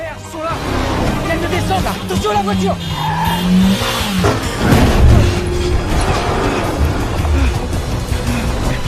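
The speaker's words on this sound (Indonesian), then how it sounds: "langsung pergi melarikan diri menggunakan mobil" Car speeding in a movie chase scene, engine roar with squealing tires and skids, loud and continuous under dramatic music and speech.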